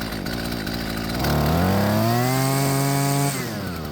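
A Husqvarna 128LD string trimmer's small two-stroke engine drones steadily, then revs up to a higher, whining pitch and holds there before dropping back down during carburetor adjustment.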